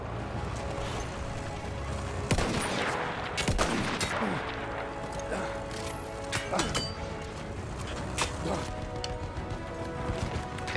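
Gunfire in the first-person shooter Battlefield 1, with repeated rifle and machine-gun bursts, sharp cracks and distant explosions in a busy battle, while a player speaks over the fighting.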